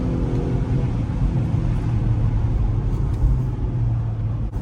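A Volvo S60 Polestar sedan engine rumbles steadily at close range, a low continuous idle with slight swells in intensity, no talking.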